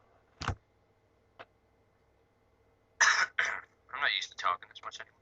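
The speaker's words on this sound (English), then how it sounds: "That was me coughing." A person coughs once sharply, with a faint tick a second later, then a voice talks briefly in a quiet room.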